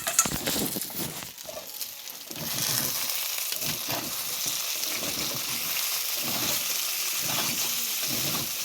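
Onions fry in a pan in a home kitchen, a loud continuous sizzle with occasional scraping and light clinks from stirring throughout.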